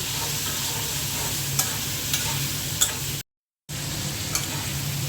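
Prawns fry with onions in a hot pan, giving a steady close sizzle with a few sharp spatula taps and a brief gap of silence partway through.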